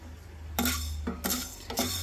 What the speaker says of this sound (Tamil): ஃபர்ஸ்ட் மிளகு போட்டு வறுத்துப்போம்.